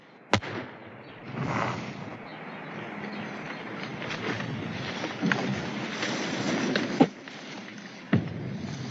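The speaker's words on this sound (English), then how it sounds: "Hit the deck! Hit the deck! Grenade!" A grenade goes off in a TV military comedy with a sharp crack, followed by a long rumbling roar and debris-like noise, punctuated by a couple more sharp pops.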